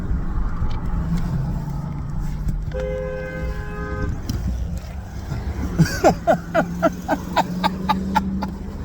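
A car driving past on the road with a steady engine rumble, a short horn-like tone partway through, then a series of rhythmic rattling bangs as it goes by, fairly close.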